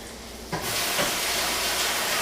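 A salmon cake laid into a hot skillet sets off a sudden, steady sizzle and hiss of frying that carries on without a break, fairly loud and close.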